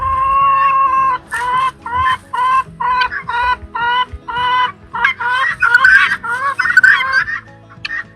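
Hens cluck in loud, close bursts of repeated squawking calls near a rooster, with brief pauses between the noisy clusters and no voices present.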